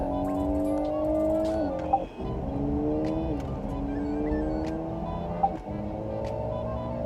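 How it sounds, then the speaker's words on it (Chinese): Simulated racing-car engine sound effect from a GWM Ora 07 Long Range EV, a steady synthetic engine drone whose pitch rises and drops twice like gear changes, continuous and close inside the cabin. "有一个非常好玩的叫 Sound Effect， 打开它的模拟声浪。"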